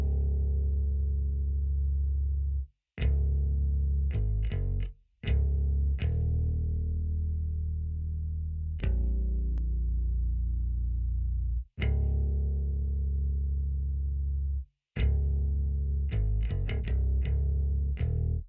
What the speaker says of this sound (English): So the next thing I added was this Rickenbacker bass.